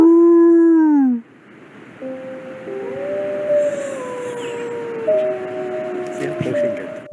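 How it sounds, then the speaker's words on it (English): A wolf lets out loud howls, first one strong falling howl close by, then long wavering howls overlapping like a distant reply, with a faint higher whine joining in. "It immobilizes not too far away in order to let out a few loud howls, most likely trying to locate its pack."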